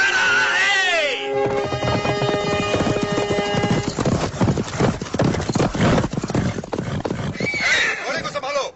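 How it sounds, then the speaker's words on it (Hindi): A horse whinnies loudly at the start, then hooves clip-clop in a quick, busy rhythm close by, with another neigh near the end and voices speaking over the scene. "घोड़े को संभालो।"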